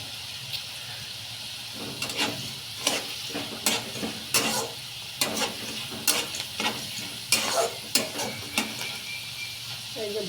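Food fried in a pan for lemon rice is stirred with a utensil, producing a steady soft sizzle broken by repeated sharp scraping and clinking strokes at an irregular, fairly quick rhythm, close by with no talking.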